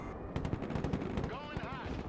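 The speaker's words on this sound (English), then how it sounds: "CAS, mission confirmed. Roger, strafing the area." Close air support aircraft strafing with rapid gunfire in the Broken Arrow game, a dense burst of cracking shots and booming impacts, with a radio-style voice speaking over the later part.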